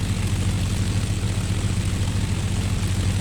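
Supermarine Spitfire piston engine droning steadily on approach as the landing gear is lowered, a loud, continuous low propeller hum with no speech.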